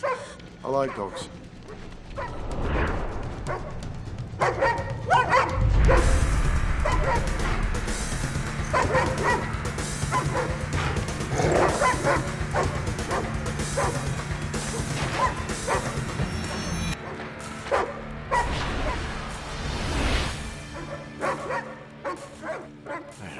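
Repeated dog barks and yips, some whimpering, scattered through a loud action-movie scene with crashes and rumbling, heard under and between people's voices.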